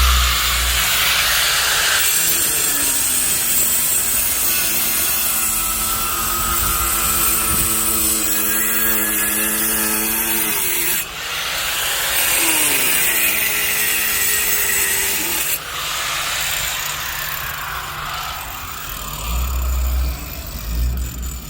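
A power saw cuts through a basalt stone stepping slab, its whining drone rising and falling in pitch across two long passes with a brief pause between, loud and close.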